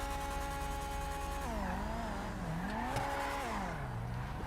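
Armoured vehicle engine in GTA 5 revs loudly and continuously, a steady drone that climbs and falls in pitch through several swells, with a faint tyre-squeal edge and no talking.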